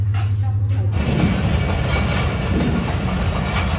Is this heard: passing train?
yes